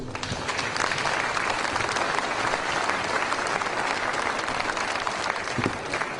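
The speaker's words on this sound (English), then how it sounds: "if we can give them a good round of applause" A public debate audience in Cranbrook applauds the panelists, giving a dense, sustained round of clapping that fills the hall evenly from start to finish, with no voices over it.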